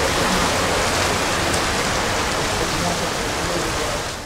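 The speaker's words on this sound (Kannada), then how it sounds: "ಹಾವೇರಿ ಜಿಲ್ಲೆಯ ಹಲವೆಡೆ ಭಾರೀ ಮಳೆ ಸುರಿದಿದ್ದು" Heavy rain pouring down in Haveri district, Karnataka, a dense, loud, continuous wash of falling water that holds steady and eases slightly at the very end.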